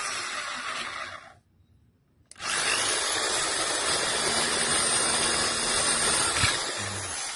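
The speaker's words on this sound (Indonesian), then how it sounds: "kemudian saya melakukan pengeboran" A drill bores a hole in an acoustic guitar during a repair. Its loud, steady whirring hiss cuts out for about a second, then starts again and runs on continuously.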